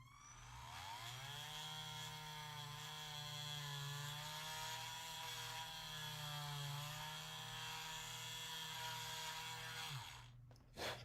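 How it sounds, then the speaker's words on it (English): A power drill whirs through clear plastic during a repair, spinning up and holding a steady high-pitched whine for several seconds before winding down, followed by a brief clunk at the end. "Kind of want to guide that drill bit with your fingers, you know, so you don't go in too far."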